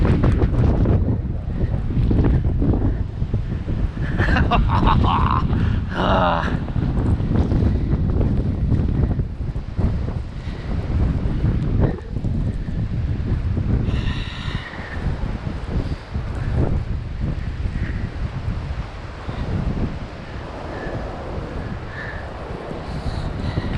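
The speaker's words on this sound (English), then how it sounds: "that wind's friggin' awful" Strong blizzard wind in Regina, Saskatchewan, roars and buffets against the microphone in a continuous loud rumbling gust, with no one speaking over it.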